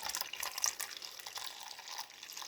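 Homemade root beer trickling and dripping through a boiled cloth strainer, a soft continuous watery splash close by with no voices.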